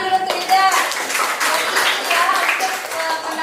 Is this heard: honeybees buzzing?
no